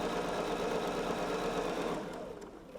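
Domestic sewing machine running a steady back stitch across fabric for a baby receiving blanket, a fast, even mechanical whirr close by that slows and fades out in the last second.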